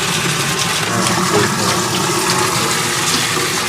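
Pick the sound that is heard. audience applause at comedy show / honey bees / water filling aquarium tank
water filling aquarium tank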